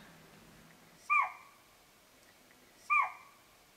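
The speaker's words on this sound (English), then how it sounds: "This deer didn't like it at all, so it let her know with a little bark." A deer gives two sharp alarm barks about two seconds apart, clear and moderately loud, with quiet outdoor stillness between them.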